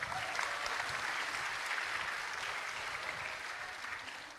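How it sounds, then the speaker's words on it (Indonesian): Applause from a crowd of thousands at a political rally, a dense, steady wash of clapping that holds at full strength for several seconds and fades slightly near the end. "Boleh tepuk tangan untuk kita semua."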